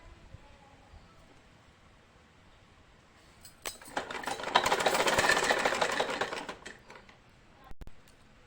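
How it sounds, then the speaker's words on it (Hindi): A sewing machine stitches a blouse, starting up after a quiet stretch and running in a steady, close rattling whir for about three seconds before slowing, with a brief second burst near the end. "अब हम इस पे सिलाई लगाएंगे। इस तरह से हमें इस पे सिलाई लगानी है।"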